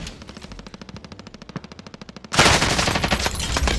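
Rapid automatic gunfire sprays in a video game, a fast even rattle of shots that breaks into a louder, denser burst partway through, close and punchy with no talking.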